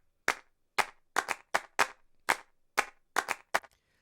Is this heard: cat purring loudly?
no